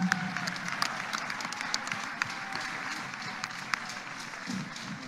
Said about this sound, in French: Acclame Jésus de Nazareth